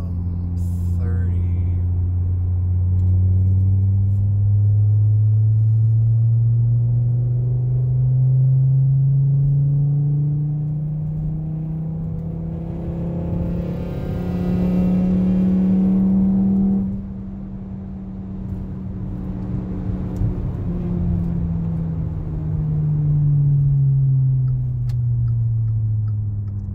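A car pulls in third gear from 30 in a long, steady acceleration: the engine drone rises slowly over about fifteen seconds, drops off briefly, then climbs again, heard from inside the cabin with no talk.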